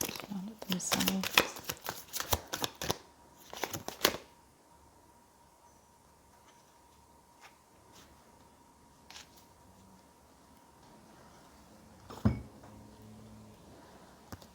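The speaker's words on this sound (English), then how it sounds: "I'm just going to shuffle the cards and see if I can get an answer for you" Tarot cards shuffled by hand, a quick burst of crisp riffling snaps over the first few seconds, then near silence with a few faint taps and one sharp knock.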